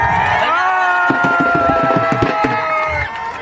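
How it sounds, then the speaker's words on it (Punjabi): Crowd at an outdoor wrestling event in Sangowal, Ludhiana, clapping in a loud burst of rapid, steady applause beneath a continuous hum of crowd noise, fading slightly toward the end. "ਇੱਕ ਵਾਰੀ ਇਹਦੇ ਨਾਲ ਤੇ ਤਾੜੀਆਂ ਸਾਰੀ ਮਾਰ ਦਿਓ ਜੀ"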